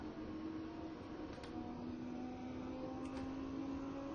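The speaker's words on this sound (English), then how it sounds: "you can hear the throttle bouncing off the rev limiter there" A Lamborghini Huracán engine in the racing game Assetto Corsa, at Circuit de Catalunya, drones steadily at high revs, its pitch holding flat against the rev limiter, with a couple of faint blips along the way.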